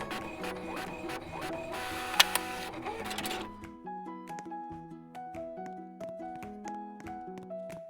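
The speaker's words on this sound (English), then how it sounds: "let's wait for that printer to finish" Game printer in the Roblox game Maple Hospital printing discharge papers, a quiet mechanical whirring run that gives way to a series of rhythmic electronic beeping tones.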